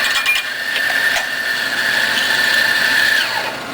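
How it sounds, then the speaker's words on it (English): A coffee grinder runs steadily on fresh espresso beans, a continuous high whine with gritty crunching that holds for several seconds before tapering off as the burrs spin down. "I'm going to grind up some espresso, fresh ground espresso."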